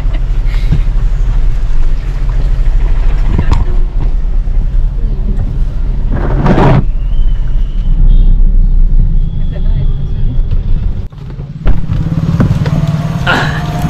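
A car drives along with a constant low engine and road rumble, loud and close throughout, with a few knocks and brief passing noises on top.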